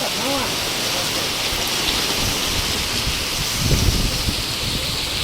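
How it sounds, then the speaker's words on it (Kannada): Heavy rain pours steadily outdoors near a truck being loaded under a tarpaulin, a loud continuous hiss with occasional patters and a brief voice underneath. "ಮಳೆ ಚಲೋ ಆಗಿಬಿಟ್ಟೈತಿ"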